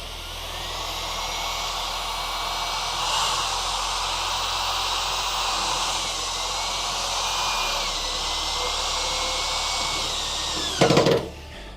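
A power drill runs steadily, driving a self-tapping screw into the steel car body of a crew cab Charger during trunk installation. The loud whine holds for about ten seconds and ends in a short rattling burst.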